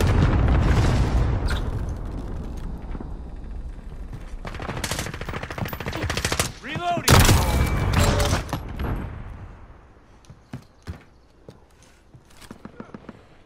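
Gunfire in a first-person shooter with a Kar98k rifle on the Road to Damascus map: heavy bursts of shots and blasts at first, then sparser single cracks that fade toward the end.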